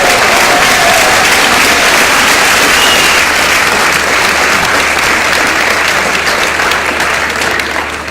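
Loud, dense applause from a festival audience during a speech, steady broadband clapping that holds for the whole stretch and eases slightly at the end.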